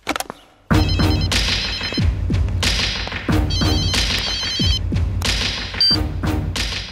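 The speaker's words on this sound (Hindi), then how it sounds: "जरा ठाकुर साहब को फोन लगाओ।" A telephone rings in repeated electronic bursts, mixed with heavy thuds and clattering knocks, loud and close.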